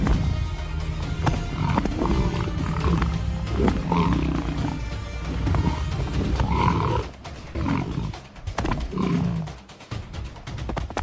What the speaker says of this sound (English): Lions clash, grapple, and roar, every movement charged with the will to dominate the kill.